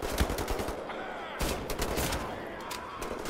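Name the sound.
double-barrel shotgun firing in video game Wolfenstein: The New Order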